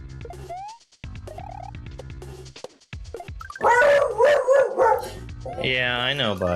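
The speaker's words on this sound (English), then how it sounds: "He's gonna be barking in a second here." A pet guard dog at home barks and howls in loud, harmonic bursts that rise toward the end, with a voice talking nearby between and around the calls.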